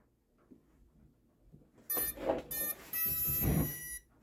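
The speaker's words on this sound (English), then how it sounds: "It's making beep noises." A homemade drone's electronics beeping right after power-on, a few loud sustained electronic tones in short bursts after a quiet stretch with soft handling noises.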